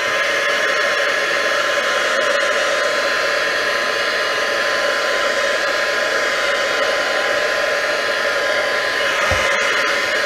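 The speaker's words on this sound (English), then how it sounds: "And I'll just run over it quickly with the heat gun again." Heat gun blowing steadily over an inked, distressed paper craft tag, a continuous loud airy whoosh with a constant hum that holds for about ten seconds, with a brief low thump near the end.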